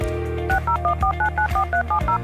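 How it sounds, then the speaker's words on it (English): A telephone keypad dials a quick run of about nine evenly spaced two-note touch-tone beeps, loud and clear over a steady low background hum, as a radio station spot for KCAA promotes a dial-up listening line. "have made it as easy as dialing the phone"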